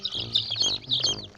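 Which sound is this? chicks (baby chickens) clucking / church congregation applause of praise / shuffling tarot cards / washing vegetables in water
chicks (baby chickens) clucking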